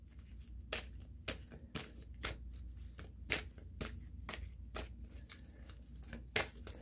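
Oracle cards are shuffled by hand, their edges riffling and slapping in quick, irregular clicks close by, with no talking.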